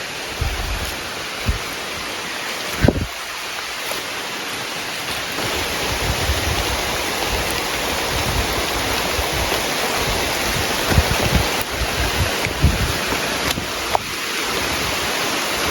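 Heavy rain pours steadily through a forest in East Kalimantan, a dense, loud hiss that never lets up, with a few brief knocks and bumps close by.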